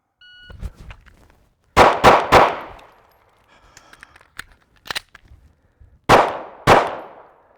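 Loud handgun shots ring out during a concealed carry cold start drill: a quick burst of three, a single shot, then two more spaced apart, each sharp crack trailing off with no talking.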